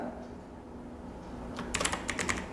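Someone types a name into an Excel spreadsheet on a computer keyboard; a quick cluster of soft key clicks comes near the end, faint against low background hum.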